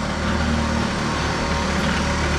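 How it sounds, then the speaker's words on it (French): Tuned scooter engine with a Stage6 65 kit running steadily, a dense, loud, continuous buzzing drone with no breaks. "le moteur marche vraiment très très fort"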